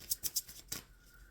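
A deck of tarot cards being shuffled produces several quick, crisp riffling bursts in close succession, then a final flutter, all quiet and close with no talking.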